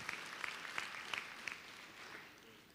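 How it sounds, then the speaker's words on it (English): Graduates at an Eastmoor Academy graduation ceremony applaud themselves, a faint, thin patter of clapping with a few sharper claps standing out, tapering off toward the end. "Give yourselves an applause for being able to step forward and step boldly"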